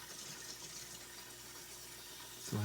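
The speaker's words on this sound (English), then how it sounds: "Still hear some air coming out to the faucet over there" Faint, steady hiss of air and water sputtering from a faucet on a home well system with a Square D pressure switch, heard from a distance at low level, with a louder thump right at the end.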